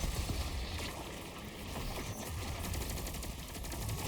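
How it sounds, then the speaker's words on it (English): Sustained machine gun fire from Destiny rattles continuously at a steady rapid rate, fairly loud and dense, with no talking over it. "That's one reason too the machine gun comes in handy a little bit."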